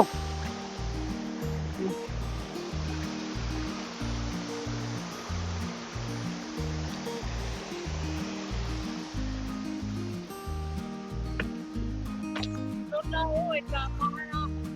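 A hidden waterfall in the Swiss countryside roars steadily as a broad, continuous rush of water, with a rhythmic low thumping underneath and a voice speaking briefly near the end.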